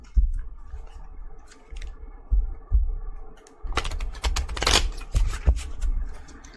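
Tarot cards handled and shuffled by hand before a reading: quiet fiddling at first, then a dense flurry of riffling, flapping and tapping through the middle, easing into a few scattered taps, close and without talk.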